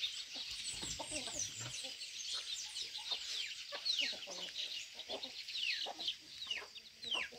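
A lame young chicken clucks and chirps in a farmyard among other fowl, soft scattered peeps and clucks overlapping continuously at a distance, faint and without clear talk.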